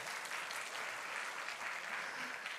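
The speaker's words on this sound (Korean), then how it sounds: "우리 박수로 한번 환영하도록 하겠습니다." A church congregation at a Sunday service claps steadily to welcome a newborn baby, a soft, even wash of applause heard from a distance.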